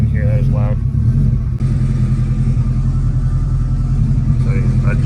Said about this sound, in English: Car was just idling really rough. Now it's idling high.